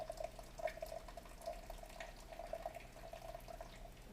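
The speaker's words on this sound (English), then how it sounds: "Then we are going to pour in half a cup of boiling water" Boiling water pours steadily into a cup for healthy hot cocoa made with cacao and maple syrup, a soft continuous trickle with faint bubbling, alone and fairly quiet.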